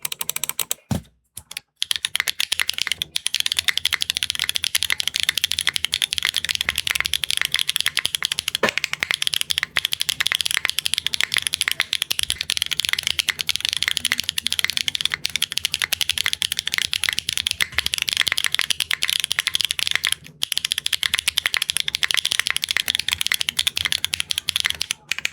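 Tactile mechanical keyboard switches, Wingtree Puer Tea versus HMX Hydra on a Neo65 Core Plus board, typed in a steady, fast, close-up clatter of crisp keystrokes with no talking.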